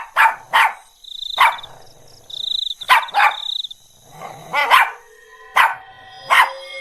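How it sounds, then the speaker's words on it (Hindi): A pet dog lying beside a child on the floor at night barks repeatedly at something by the window. The barks come loud and close in quick pairs, with a steady high ringing tone underneath. "वो उसकी तरफ देखकर भौंकने लगता है"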